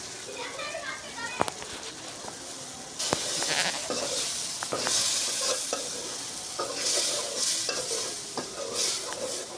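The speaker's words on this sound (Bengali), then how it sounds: "এখন আমি পেস্টগুলো দিয়ে দিব দিয়ে ভালোভাবে কষিয়ে নেব একটু একটু জল দিয়ে" Spice paste and fried potatoes for a fish curry sizzle in a pan, a dense frying hiss that swells as the paste goes in, broken by scraping and clinks of stirring.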